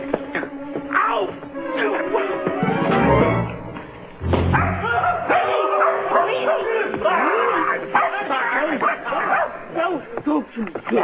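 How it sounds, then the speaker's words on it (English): Small dog barking and yipping in an excitable, whimpering burst, close and loud, mixed with people talking and background music. "What is all the barking about, Schemer?"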